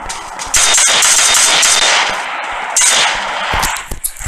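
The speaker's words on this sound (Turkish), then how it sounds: "O silah seri atıyor." Automatic weapon fire crackles in rapid bursts in the mobile shooter PUBG Mobile on the Erangel map. The loud, dense volleys run almost continuously with brief gaps between strings of shots.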